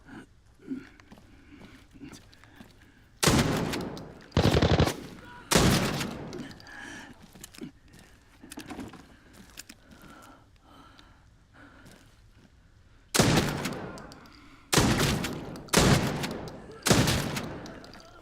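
Bursts of video game gunfire from an online shooter: loud, separate volleys of rapid shots, two close together early, then another pair, and three more near the end, with quieter background noise between.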